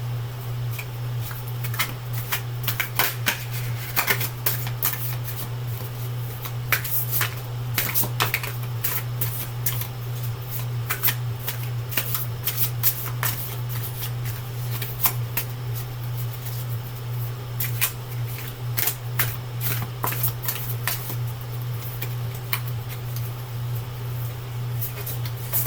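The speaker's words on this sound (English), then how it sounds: "straighten these cards out for you" Tarot cards being shuffled and straightened, giving a steady run of soft crisp flicks and snaps over a constant low electrical hum, with no talking.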